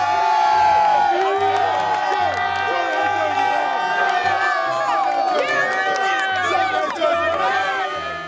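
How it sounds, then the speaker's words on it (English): Screaming baseball fans cheer at a San Francisco Giants ballpark, a loud, dense crowd roar with overlapping shouts and whoops, with music-like low tones pulsing underneath. "With all the screaming fans running around"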